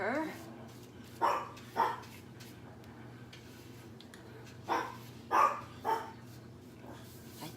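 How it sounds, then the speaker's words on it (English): A dog barks urgently to be let outside in a room where a box fan is being painted, giving five sharp barks in two clusters over steady low background hum, with a brief spoken word. "That sounds like an urgent I have to go out bark."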